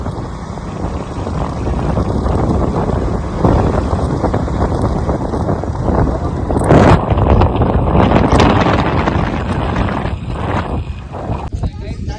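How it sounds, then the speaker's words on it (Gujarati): Strong wind roars and buffets continuously, a loud broadband rush with gusts that surge midway, dominating the scene. "પવન બહુ જ બહુ છે"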